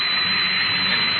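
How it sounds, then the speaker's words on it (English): Radio drama effect of an underground digger's drill running at full speed, a loud, steady roaring whine with no variation. "Turn on the drill with the tread stationary."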